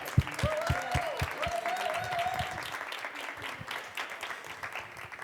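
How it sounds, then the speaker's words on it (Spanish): An audience claps for Juan and Antonio at a radio drama production, a few loud close claps at first swelling into sustained, even applause that slowly thins. "Un aplauso para Juan y para Antonio."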